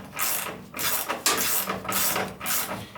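A ratchet tightens nuts on the suspension of a 1971 Buick Riviera during a brake and suspension overhaul, with rapid clicking swings in about four close strokes, each a burst of ratcheting followed by a brief return.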